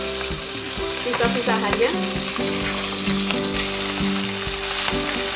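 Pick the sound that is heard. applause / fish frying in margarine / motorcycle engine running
fish frying in margarine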